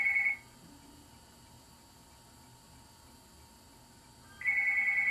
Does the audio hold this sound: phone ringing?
yes